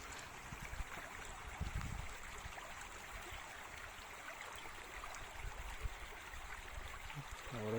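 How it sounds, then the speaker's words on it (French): A small stream trickling along a countryside walking trail near Montpezat d'Agenais, a faint, steady watery hiss with soft gurgles, heard from close by with no talking. "Regardez, petit ruisseau."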